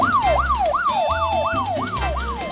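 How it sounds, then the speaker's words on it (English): Ambulance siren wails in a rising and falling sweep, repeating about every half second, loud and close over a low road-vehicle rumble, with no voices. "maar het blijkt een ambulance te zijn"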